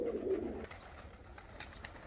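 Pigeons cooing at a pigeon loft, a low soft coo rising near at the start and fading within about half a second, then quiet ambient noise with faint rustles.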